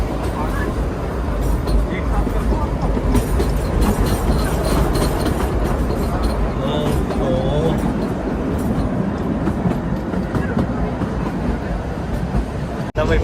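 The Himalayan Queen toy train, service 52455, runs on the Kalka–Shimla railway from Haryana toward Himachal, giving a loud, steady, close-up roar of rolling wheels and carriage rumble throughout, with faint clicking over the rails and voices underneath.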